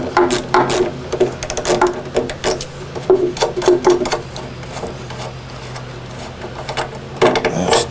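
Carriage bolts being worked loose and removed from a Mortal Kombat II arcade cabinet, giving repeated rattling, ratcheting and clunking bursts in a steady mechanical rhythm, close and fairly loud, with no talking.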